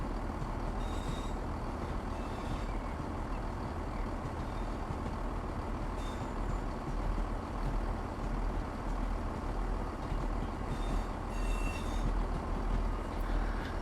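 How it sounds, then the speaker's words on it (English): A train pulls in on the West Coast Main Line near Birmingham New Street in Train Sim World 6, a steady low rumble of rolling wheels and engine with faint high squeals over it, no voices. "there is actually a train coming in"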